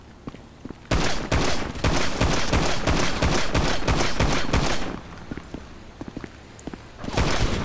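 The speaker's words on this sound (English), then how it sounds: "Nice shooting" Rapid bursts of gunfire in Grand Theft Auto V crack out close and loud, volley after volley, then thin into scattered single shots before another burst flares up at the end.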